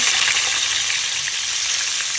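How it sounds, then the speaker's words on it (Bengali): Red tilapia frying in olive oil makes a loud, dense, continuous hiss and crackle of hot oil, close and unbroken, with no voices. "মাছগুলো ভেজে নেব"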